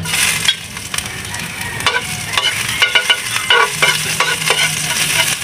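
Ginger sizzles and crackles in a hot pan as it is stirred for duck adobo, with scraping stirs and steady frying hiss running throughout, close and fairly loud, with no talking.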